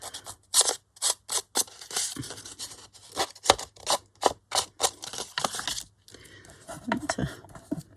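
Blunt scissors snip a recycled brown paper bag repeatedly in quick, irregular bursts, close and crisp, with short pauses between cuts and faint rustling of paper.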